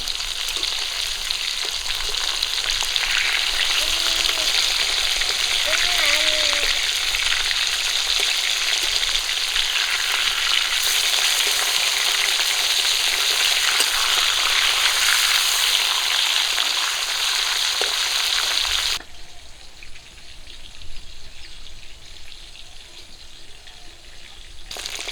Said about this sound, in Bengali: মাছগুলো এক পিট করে ভাজা হয়ে গেছে উঠে দেবো